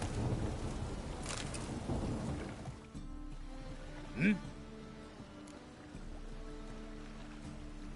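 Steady rain hisses throughout in The Witcher 3: Wild Hunt, with a low rumble and scattered drops in the first few seconds and a brief sharp knock midway.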